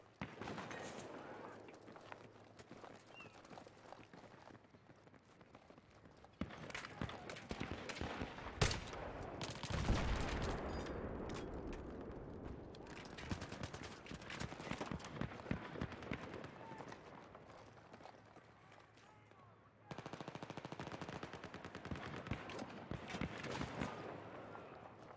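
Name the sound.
gunfire from a video game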